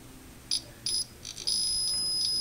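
A multimeter in continuity mode beeps as two metal jumper contacts on an arcade board touch: two short high beeps, then a sustained tone, close up and clear.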